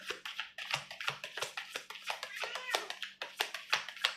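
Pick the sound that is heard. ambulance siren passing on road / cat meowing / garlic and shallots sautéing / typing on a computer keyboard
cat meowing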